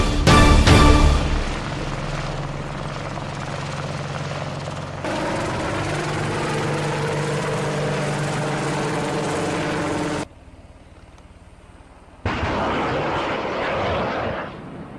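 An attack helicopter flies past with a loud, steady rotor thump and engine drone that carries on for about ten seconds, drops out briefly, then returns.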